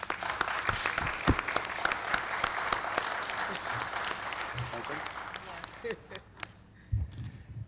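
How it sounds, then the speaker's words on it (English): A room of attendees at a City of Linden council meeting gives a round of applause for an honoree. The clapping is sharp and scattered, thins out toward the end, and faint voices murmur beneath it. "So I'd like you all to give Diane a round of applause now."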